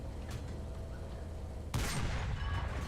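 A tank cannon fires in War Thunder, one loud sudden boom about midway that rolls into a sustained rumbling decay over low engine and battle noise.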